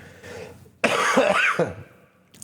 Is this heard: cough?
yes